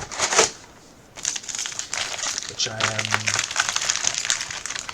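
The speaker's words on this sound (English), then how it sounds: "you're just going to have to trust me that I'm shuffling all these packs together" Sealed trading card booster packs shuffled together by hand, a steady crinkling and crackling of foil wrappers that runs nearly throughout, close and moderately loud, with someone speaking over it.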